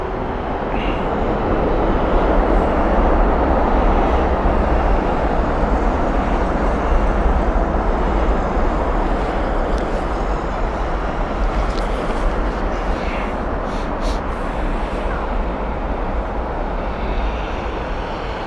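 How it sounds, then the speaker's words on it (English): Air Canada Boeing 787-9 on arrival at Heathrow, a steady loud broadband jet roar holding level throughout with deep low rumble, no voices. "Inbound next, the Calgary flight from Air Canada. This is the 787-9."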